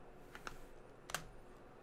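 Taps on a Galaxy S8 phone's on-screen keyboard while typing a search: a handful of faint, quiet clicks at uneven intervals over a near-silent background.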